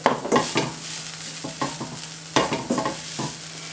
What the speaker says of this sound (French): on va ajouter du coup notre bouillon. Un petit peu à la fois en mélangeant